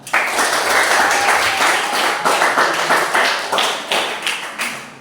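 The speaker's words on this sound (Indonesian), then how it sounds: "Berikan aplaus buat mereka." An audience claps for a student group that has just presented, a dense burst of applause that starts at once and slowly thins and fades over five seconds, with no speech over it.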